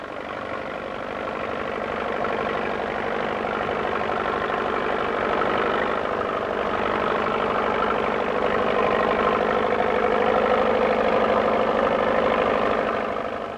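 A tractor engine on a 1950s Plains farm, used while hay is cut and raked, drones steadily and fairly close for the whole stretch, a continuous mid-low rumble with no voices.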